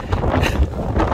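Strong wind buffets the microphone outdoors on a blustery afternoon, a steady loud rumbling roar with gusty swells throughout.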